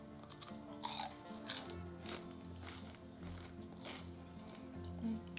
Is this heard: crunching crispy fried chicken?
yes